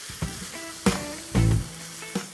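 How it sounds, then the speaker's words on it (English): Onions sauté in a pan with dry red chilies for cauliflower raita, a close sizzle broken by a few sharp stirring clatters and scrapes against the pan. "I'm going to add in some onions. I don't want to saute this for long, just to get rid of the rawness."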